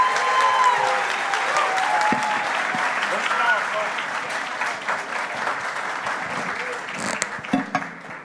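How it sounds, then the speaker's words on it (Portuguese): Enthusiastic audience applause at a live debate event, loud and sustained clapping from a crowd that gradually thins and tapers toward the end, with some voices mixed in underneath. "Uma salva de palmas bem forte, pessoal."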